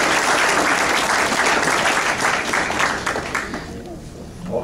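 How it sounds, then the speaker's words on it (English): Steady, dense applause from a large crowd at a high school sports banquet honoring a Hall of Fame coach, loud and sustained before thinning slightly toward the end. "Let's give a round of applause for Larry Gibson."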